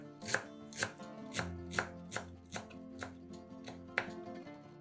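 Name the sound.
knife chopping a bunch of parsley and dill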